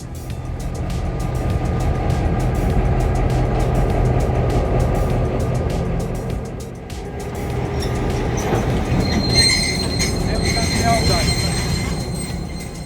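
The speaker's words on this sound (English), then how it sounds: "there were locomotives going up and down the line with cab rides available as well." Heritage railway locomotives run along the line at an open day, a steady loud rumble of rolling wheels and engine with higher squealing and clattering toward the end, continuous throughout.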